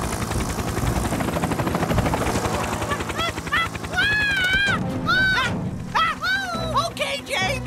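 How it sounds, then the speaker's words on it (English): Rapid thudding chop of helicopter rotor blades throughout, from a children's cartoon rescue scene, with excited voices and sliding whistle-like tones cutting in over it. "Thomas, it is helicopter!"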